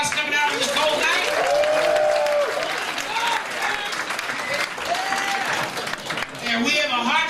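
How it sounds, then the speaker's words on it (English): A comedy club crowd on a cold night applauds warmly at the start of a stand-up show, clapping and cheering from a full room. Someone talks over the applause throughout, and the noise dips briefly near the end. "Give yourselves a big round of applause coming out on this cold night."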